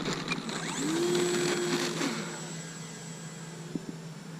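A small low-wing airplane in flight gives a steady, loud engine drone, with a rising whine partway through and a couple of faint clicks near the end.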